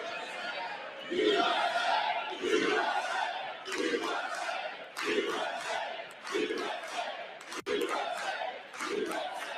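A crowd in the chamber boos during the 2025 State of the Union address, loud massed voices swelling in regular repeated bursts roughly every second or so, continuing throughout.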